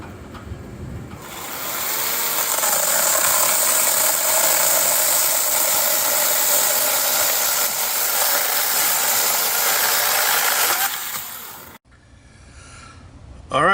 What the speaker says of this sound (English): That is the chainsaw here from Teccpo.